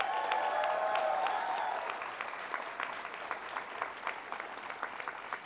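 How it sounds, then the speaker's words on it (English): Audience at a government event on ending the AIDS epidemic breaks into a round of applause, a full, loud burst that thins into scattered, sparser claps toward the end. "let's give them a round of applause."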